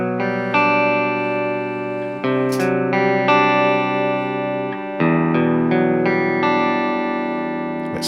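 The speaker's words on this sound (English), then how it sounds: "Here's my clean sound with a little bit of reverb on it." Clean electric guitar playing sustained chords and ringing notes, bathed in a light reverb that lets each strum hang and blend into the next.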